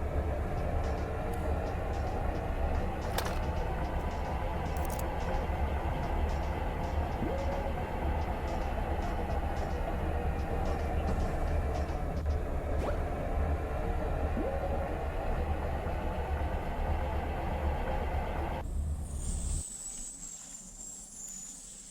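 A train rolls across a hostile exoplanet in the ExoTrain video game, giving a continuous heavy rumble with clanking accents that drops away abruptly near the end.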